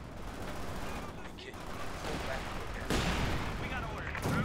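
Gunfire and an artillery barrage from the World War II strategy game Company of Heroes 2, a dense, continuous wash of shots and rumbling impacts that swells louder toward the end, with voices talking over the battle.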